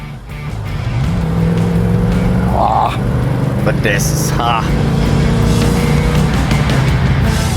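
A 1975 Triumph Stag's V8 exhaust, a steady, throaty engine drone running throughout with a short rise in revs, heard from inside or beside the open car while people talk over it.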